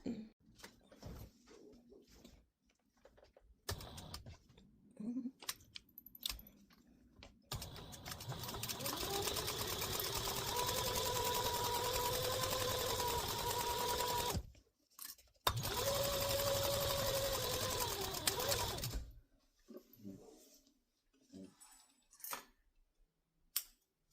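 Sewing machine stitching a bucket bag seam: two sustained runs of steady motor whir, each lasting several seconds, with brief handling clicks and rustles before and after.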